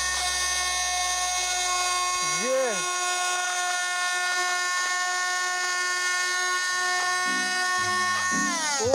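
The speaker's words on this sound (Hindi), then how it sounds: "अबे यार पूरी बोतल काट दी, और बहुत स्पीड से काटी है" A small high-speed rotary cutting gadget slicing through a bottle gives a loud, continuous, high-pitched motor whine, its pitch dipping briefly a few times as the blade loads up.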